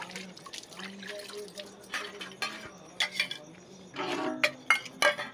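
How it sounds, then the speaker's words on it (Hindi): Dishes being washed after a meal, with clinks of metal utensils and pots, running and dripping water, and irregular clatters growing busier toward the end, near and fairly quiet. "अब हम बर्तन धो रहे हैं।"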